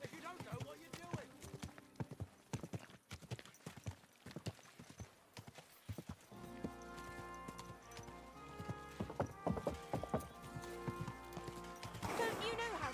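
Horse hooves clip-clopping in the medieval video game Kingdom Come Deliverance 2, a steady rhythmic trot close by with a brief whinny, over game music and voices talking.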